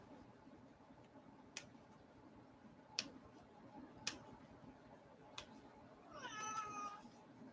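A cat gives a short meow near the end, preceded by a few sharp clicks or taps, all faint against a quiet indoor background.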